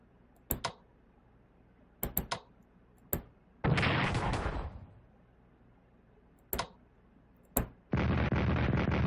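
Artillery fire in the strategy game Strategic Command WWII: sharp clicks between two longer bursts of explosive rumble, one decaying after a second, the other starting near the end.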